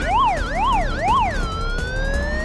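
A police car siren in a toy car racing video game wails up and down three times, then settles into a steady held tone, loud and clear with no voices.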